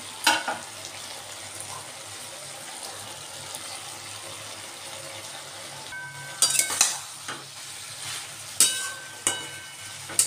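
Prawns stirred into a simmering Malabar spinach curry in a pan, a low steady bubbling hiss punctuated by a few sharp clinks and scrapes of a spoon against the pan, close and fairly quiet.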